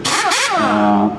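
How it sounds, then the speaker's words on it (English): A BMW M3 race car engine wails at high revs, its pitch sweeping up and down before settling into a steady, stuttering drone as it bounces off the pit-speed rev limiter. "It's called a rev limiter"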